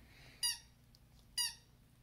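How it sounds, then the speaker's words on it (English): Dog chewing hard on something, producing two sharp, high squeaks spaced about a second apart, faint and close in an otherwise quiet room. "The squeaking you're hearing is my dog chewing the hell out of something."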